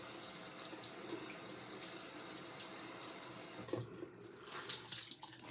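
Water runs steadily from a bathroom sink tap while a face is washed during a bedtime routine, a soft continuous splashing that breaks into uneven splashes near the end.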